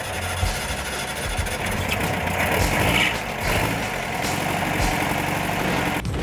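A truck at a Bug-A-Rama car show idles with a loud, steady low rumble and vibration, close by and without talk.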